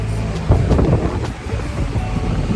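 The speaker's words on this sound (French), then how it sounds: "Le vent." Strong wind buffets the microphone in a steady low roar, gusting and rumbling without pause.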